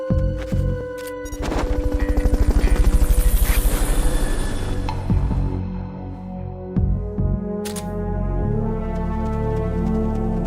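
Helicopter in the video game Metal Gear Solid Peace Walker, a loud rotor thrum with layered game effects and music tones, swelling to a peak early then settling into a steady drone.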